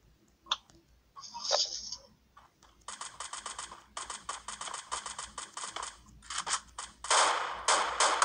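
Rapid bursts of gunfire from the mobile game Free Fire come as quick rattling volleys with clicks and a few single shots, fairly faint.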